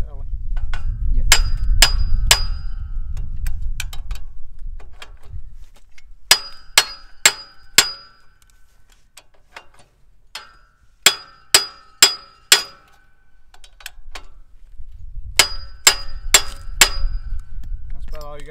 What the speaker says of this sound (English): Tightening these pins, just give yourself a little tap.